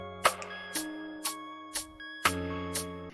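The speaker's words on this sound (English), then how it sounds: "Alright, I've added a lot more percussion and now it sounds like this." Layered percussion loop from a music production of a PvP song, with sharp bright hits landing roughly every half second over sustained tonal layers, steady and close, with no talking.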